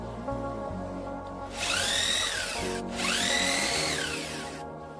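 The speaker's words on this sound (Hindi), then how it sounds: "फ्यूज और दोनों मीटर को हम 8 mm मोटे और 38 mm लंबे स्क्रू से फिट करेंगे" Power drill driving screws (8 mm thick, 38 mm and 19 mm long) into a panel board while fitting a fuse and meters, two rising-and-falling whirring bursts over a steady background hum, close and loud.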